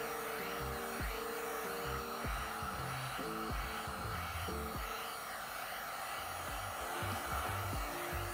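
A heat gun blows steadily while shrinking ExoShield windshield protection film on a Tesla Model 3, a constant loud airy roar with faint shifting tones beneath, uninterrupted and without talk.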